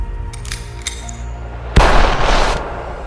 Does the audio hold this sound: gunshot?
yes